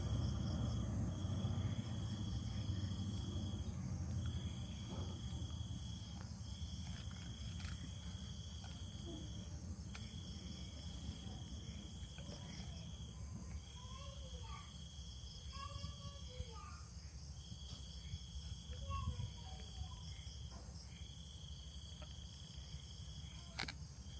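Steady high insect trilling with pulsing grasshopper and cricket chirps repeating throughout, plus occasional faint frog calls over a low background hum, on a tropical evening in Bangladesh.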